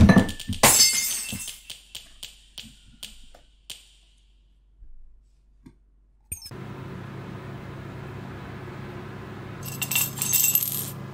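A large glass cup falls and shatters, with a sharp crash and scattering shards clinking and bouncing for a few seconds, followed by a hissing background noise.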